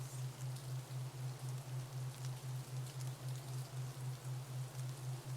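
Steady rainfall patters across surfaces in a continuous, even wash, with a low rhythmic pulsing hum running beneath it throughout.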